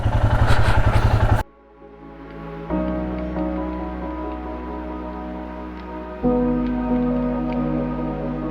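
A motorcycle rides toward Abbe Gundi falls near Sakleshpur. Its engine drones steadily close by, with rumbling wind and road noise and two noticeable changes in pitch as it shifts gear, following a brief louder burst at the start.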